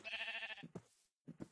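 Minecraft sheep bleating: one long wavering bleat, then two short bleats after a brief pause, close and clear with no talk.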